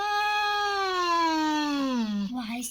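A cat meowing while its wound is treated: one long, drawn-out meow that slowly falls in pitch and ends in a rough, strained tail, close and clear, with no talk over it.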